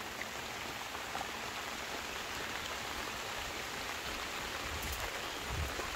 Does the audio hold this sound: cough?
no